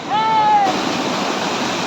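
River in Pahalgam, Kashmir, rushing with a loud, steady broadband roar of flowing water; a brief whistle-like tone sounds over it near the start.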